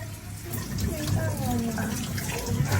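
Tap water runs steadily into a sink while a child's hands are washed with soap, a continuous close splashing under an adult's voice and a voice speaking throughout.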